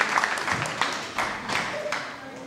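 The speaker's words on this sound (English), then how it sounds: "Let's give him a round of applause." Spectators at a 2012 Mitchell County, Georgia steer show applaud a young exhibitor, with scattered, moderately loud clapping in uneven bursts and some faint talk in the background.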